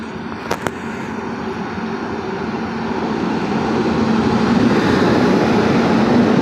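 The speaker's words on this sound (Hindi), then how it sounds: "ये जो आप देख रहे हैं आगरा होशियारपुर ट्रेन" The Agra–Hoshiarpur passenger train rolls past at a station, a loud continuous rumble that swells over several seconds, with two sharp bangs near the start.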